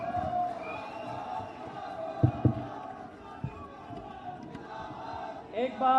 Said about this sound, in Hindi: एक बार जोरदार तालियां होनी चाहिए सर के लिए।